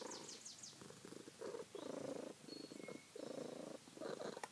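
A cat purring close by, a rhythmic rumbling purr in repeated breaths with brief pauses, fairly quiet, with faint bird chirps in the background.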